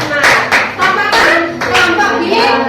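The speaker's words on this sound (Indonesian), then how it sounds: "Tepuk tangan untuk kelompok 4." A short burst of classroom applause from schoolchildren, quick, uneven claps, close and loud, while children's voices chatter underneath.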